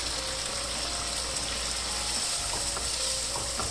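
Chicken karahi sizzles loudly over a high flame as yogurt is stirred into the frying meat, a steady dense hiss with soft scraping stir strokes near the end.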